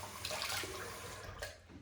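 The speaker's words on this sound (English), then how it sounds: "when I'm running the tap, I'm washing off my hand." Water runs from a tap as hands are rinsed off, a close, steady broadband splashing that swells and shifts briefly while the hands move beneath the stream, with no talking.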